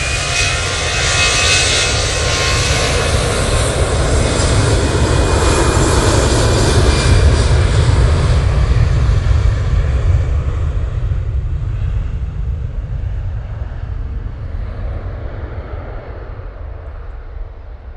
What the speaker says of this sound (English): EasyJet is off to Munich using that A320-200.